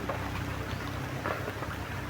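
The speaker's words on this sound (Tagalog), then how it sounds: "So mainit yung panahon tol pero may ulan." Rain falls steadily in hot weather, a dense, constant hiss of drops on surfaces, fairly loud and close, with no voices over it.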